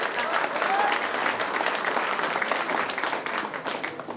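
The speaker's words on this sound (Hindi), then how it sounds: "ताली बजाओ।" An audience at a student's poetry recitation claps loudly and continuously, a dense, sustained round of applause with a few faint voices mixed in.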